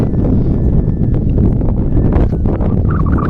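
Strong wind roars and buffets loudly and continuously during a heavy rainstorm, a dense rushing noise with no clear pauses.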